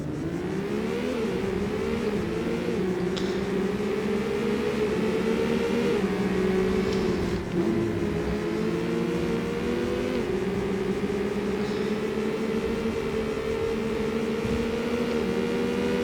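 Race car engines from the PlayStation game Need for Speed: Porsche 2000 drone and rev continuously in a classic-class tournament race, with pitch rising and falling through gear changes, loud and steady with no talk.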